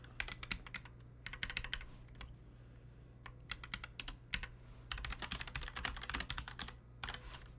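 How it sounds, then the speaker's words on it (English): Code is typed on a computer keyboard in quick, uneven bursts of clicking keys with short pauses, close and fairly quiet over a low steady hum. "We're kind of typing a lot of similar code here"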